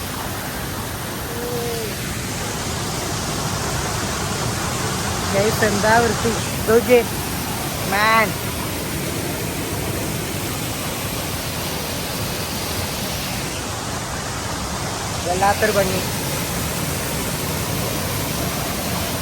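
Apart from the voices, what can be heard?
strongly flowing water after rain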